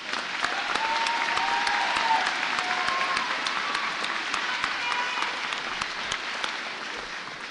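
Sustained audience applause for graduates at a 2014 community college commencement ceremony, a dense steady clapping that fills the hall for the whole stretch without any talk.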